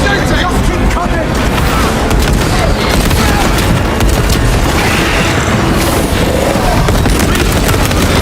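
Dense battle gunfire from Space Marine 2, with continuous loud bursts and booming blasts filling the whole stretch beneath shouted voices.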